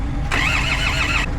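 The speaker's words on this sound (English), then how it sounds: "Got two vehicles now jump starting in the Landrover to try and get it going" A Land Rover engine cranks during a jump start in -30°C Arctic cold, a loud short burst of rhythmic whirring starter churn that stops after about a second over a steady background rumble.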